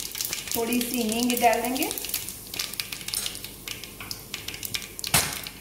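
Mustard seeds and cumin crackle and splutter in hot oil with scattered sharp pops and a sizzling bed; someone speaks briefly near the start.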